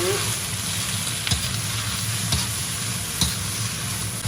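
Yellow-heart cabbage stir-fried in a pan after seasoning, a steady sizzle with spatula scrapes landing roughly once a second, close and alone.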